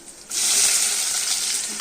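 Onion hits hot oil in a pan and bursts into a loud, steady sizzle, starting abruptly and holding a bright, hissing frying sound close up, with no talking.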